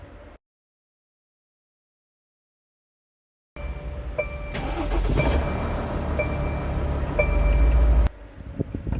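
After a stretch of near silence, an expedition camper van's engine turns over and starts, settling into a steady, close idle rumble that holds until near the end.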